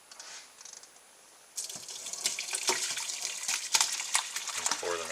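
Cranberry sauce mixture pours steadily through a sieve into a metal pan, splashing and trickling with small clinks, after a quieter moment at the start.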